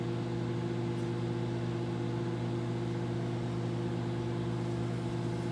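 A microwave oven hums steadily while a tomato cooks inside, its water boiling; the drone holds constant and fairly loud for the whole stretch, with no talking.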